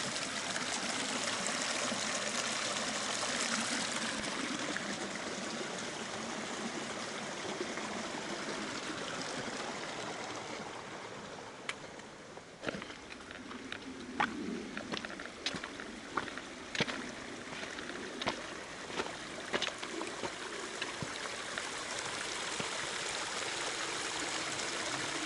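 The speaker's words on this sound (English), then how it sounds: "I think this is Porcupine Creek." Porcupine Creek on the Colorado Trail rushes steadily close by, a broad continuous wash of moving water with some brief clicks and knocks in the second half and no voices.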